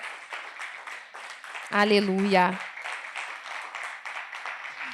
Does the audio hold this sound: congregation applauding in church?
yes